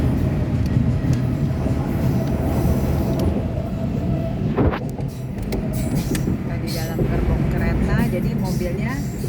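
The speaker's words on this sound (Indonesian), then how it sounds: "Jadi mobilnya naik di dalam gerbong kereta ini berjalan." Cars ride inside rail wagons on the Lötschberg car train leaving Kandersteg, Switzerland, giving a steady loud rumble and clatter of the moving train throughout, with people talking over it.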